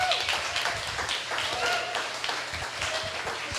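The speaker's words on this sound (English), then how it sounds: "How about a round of applause for our panelists?" Scattered applause from a small audience at a community panel discussion, a loose ragged patter of claps spread through the room with voices murmuring over it.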